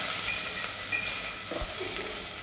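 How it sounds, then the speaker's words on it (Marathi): Green peas sautéing in oil for masale bhat make a continuous close sizzle, with a few soft stirring knocks, and no talking. "वटाणेही आता आपण टाकून तेलात परतून घ्यायचे."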